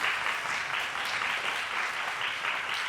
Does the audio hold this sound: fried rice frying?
no